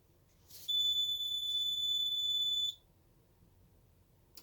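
A Simplex 3001 security alarm system sounds a single steady high electronic tone for about two seconds, loud and alone, then cuts off, leaving quiet room noise.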